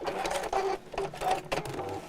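A sewing machine back stitches a chair cushion in short bursts, starting and stopping about four times with brief pauses between runs, close and moderately loud, with no voices.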